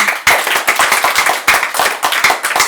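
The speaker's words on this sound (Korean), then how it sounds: "우리 보살님이나 거사님 박수 한번 쳐봐요" Audience at a Buddhist temple dharma talk clapping in quick bursts, several rounds of brisk, loud, close applause with short gaps between them.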